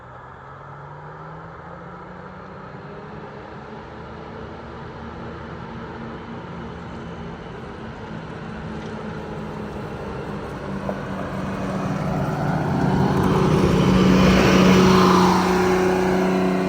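A GM 4104 bus powered by a freshly rebuilt Detroit Diesel 6-71 with new injectors labors up a hill, its engine a steady, loud drone that swells and grows harsher toward the end of the climb, with no talking.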